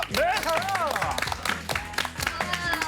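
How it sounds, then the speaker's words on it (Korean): Studio audience clapping in a Korean TV variety show, welcoming the Black Eagles air force aerobatic team, with a voice talking over the applause throughout. "박수 한번 주세요."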